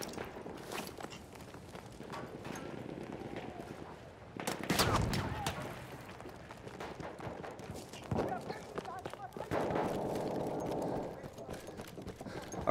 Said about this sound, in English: I'll run in the direction that I hear other gunfire coming from.